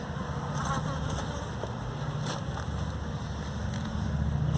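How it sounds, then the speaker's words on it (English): Dense, restless buzzing of many agitated honeybees close by at an opened hive, a constant low hum with occasional louder passes and some wind noise. "bees are already buzzing a little more because they're a little perturbed"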